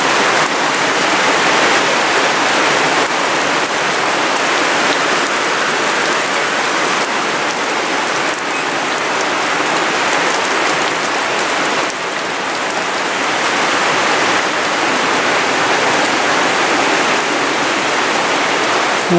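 Heavy rain pours steadily and loudly outdoors in a community neighborhood, a dense, unbroken hiss of drops on surfaces with no pauses or talk throughout.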